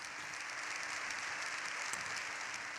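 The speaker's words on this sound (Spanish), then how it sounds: "el discurso de León XIV en la Cámara ha generado una larga ovación por parte de todos los parlamentarios" Sustained applause fills the Spanish Congress chamber as parliamentarians give a long ovation after a speech by Pope Leo XIV, a dense, steady roar of clapping with no voices breaking through.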